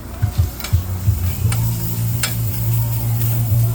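Onions and peppers cooking on a food truck griddle give a close sizzle, with a few scraping stirs of a spatula at the start and faint metallic ticks over it.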